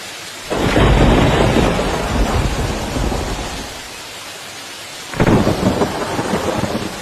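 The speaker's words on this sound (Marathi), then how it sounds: "माळशेज घाटात सुद्धा प्रचंड पाऊस आहे" Heavy monsoon rain pours down in Malshej Ghat in a loud, dense roar, broken by deep rumbling thunder that swells near the start and again later.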